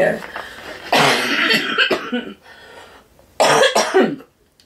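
Several harsh coughing bursts in a row, close and loud, with short pauses between them and a final pair of coughs near the end.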